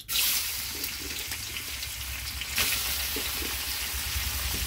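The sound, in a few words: shrimp frying in oil in a wok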